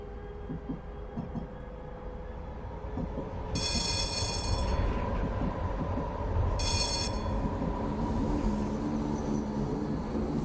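A Frankfurt U-Bahn train runs in Train Sim World 2022 with a steady low rumble and rolling wheel noise, joined by two short high-pitched squealing tones partway through, close and continuous.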